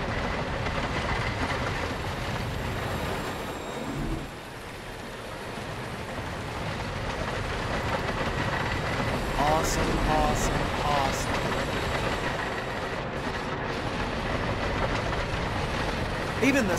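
Wooden roller coaster in the Planet Coaster video game, a steady rattling rumble of cars running on timber track with faint clicking, continuous throughout with a brief dip near the start.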